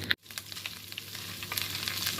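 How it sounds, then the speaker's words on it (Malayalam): Cooking oil poured into a hot pan bursts into a bright, steady sizzle just after a brief clatter, crackling evenly and close up without any voices. "ചട്ടി ചൂടായ ശേഷം അല്പം നമുക്ക് ഓയിൽ ഒഴിച്ചു കൊടുക്കാം."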